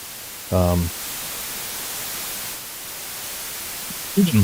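Steady broadband hiss of a white noise test signal through a Helix noise gate setup fills the clip, with brief bursts of a voice near the start and end.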